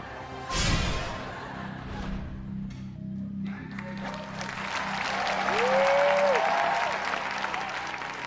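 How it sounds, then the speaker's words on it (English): A game-show studio audience breaks into applause that swells gradually after a sharp opening hit and some faint background tones, building to a broad, moderately loud wash of clapping near the end. "Kind of embarrassing that you're getting applause for peeking at a 10-year-old's paper."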